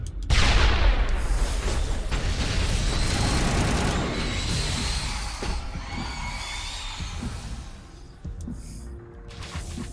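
A grenade thrown in the video game Final Fantasy XIV bursts with a loud, close blast near the start, then rumbling explosive noise and clattering game effects fill the rest, gradually easing off.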